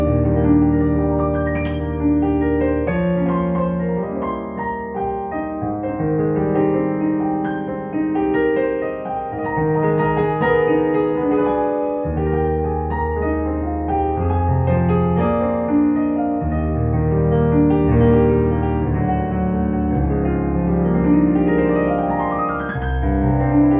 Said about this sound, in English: So what I've got here is a Boissendorfer Imperial.